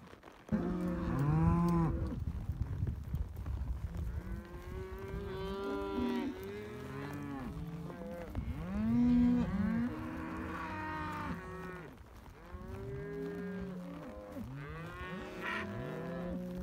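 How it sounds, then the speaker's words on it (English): Cattle being gathered in on a ranch moo repeatedly at close and middle distance, the long bellowing calls overlapping from several animals. "Gorgeous day to be getting some cows in."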